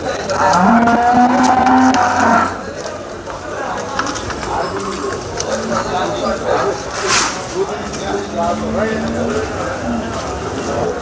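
A buffalo at the Sangola buffalo market lows loudly and close for a couple of seconds, a long deep moo, followed by crowd chatter and people talking throughout the busy market.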